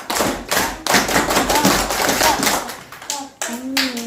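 Elementary schoolchildren in a classroom clap in quick rhythmic bursts of sharp, close hand claps, with young voices and an adult talking between the rounds.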